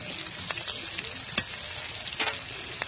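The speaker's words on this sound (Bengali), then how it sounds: "পেঁয়াজ কাঁচা লঙ্কাটাকে সুন্দরভাবে ভেজে নিয়ে ওর মধ্যে আমি টমেটোর কিউব করাটাও দিয়ে দেব" Onion and green chilli sizzle steadily in a pan, a close, even frying hiss broken by occasional louder crackles and stirring clinks.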